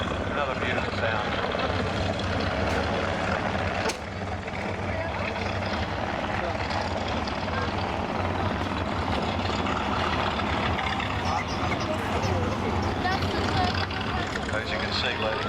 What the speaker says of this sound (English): the Fox Wolf is running there